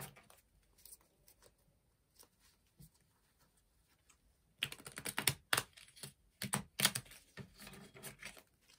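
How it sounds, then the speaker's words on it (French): Tarot cards being drawn and handled give off crisp papery rustles and quick snapping bursts, sparse and faint at first, then busier and louder in the second half. "on va sortir quelques petites cartes là"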